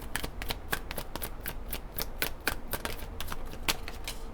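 Tarot cards are shuffled in a steady run of rapid, crisp riffling clicks that continues close by without a break.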